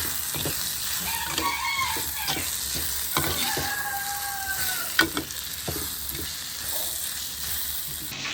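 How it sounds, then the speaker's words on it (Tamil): Tomatoes sauté in a pan for a Tamil-style sailfish curry, giving a steady frying sizzle with intermittent scraping stir strokes throughout, close and moderately loud, with no voices. "தக்காளியும் வதங்கிக்குது"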